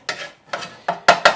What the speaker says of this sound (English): We're just going to stir it around a little bit.